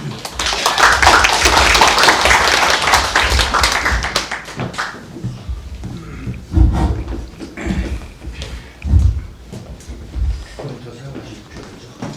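Audience clapping welcomes a presenter at an academic seminar, a dense burst of applause in the first few seconds that thins into scattered claps and thumps, with some talk underneath.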